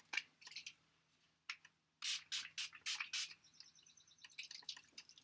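A makeup setting spray bottle gives a series of short, close hissing bursts, several in quick succession, with quieter mists before and after.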